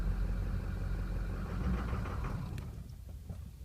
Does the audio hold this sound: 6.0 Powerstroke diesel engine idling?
yes